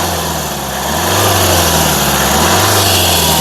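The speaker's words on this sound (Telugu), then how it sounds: "ఎక్బార్ గాడి రేస్ దేదో భయ్యా దేదో" A 2015 Hyundai Creta SX, said to run quietly, revs its engine up from idle into a steady, loud, close drone that holds for a few seconds.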